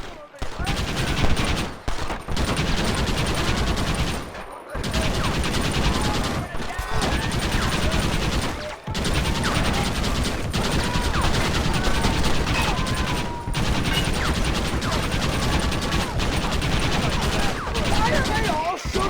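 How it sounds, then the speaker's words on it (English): Dense, sustained gunfire in Red Dead Redemption, with rapid overlapping shots broken by brief pauses and shouting voices mixed in. "Why are they all shooting at me?"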